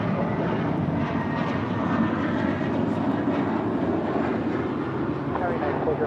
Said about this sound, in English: That is JetBlue Airways flight 524 departing to JFK on an A321.